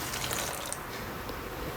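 Water pouring steadily into a pot of Tamil hotel-style tiffin sambar with ground sambar powder, a continuous close splashing gush with no voices.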